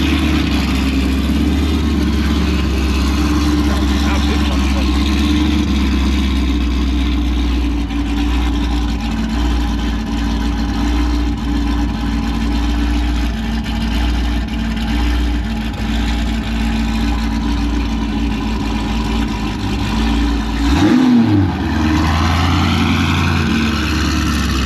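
A car engine built to 856 wheel horsepower with a cam and a D1X ProCharger idles loud and close, with a steady lumpy rumble and a brief rev near the end.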